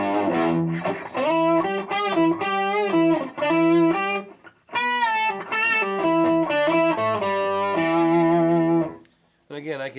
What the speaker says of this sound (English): A little octave.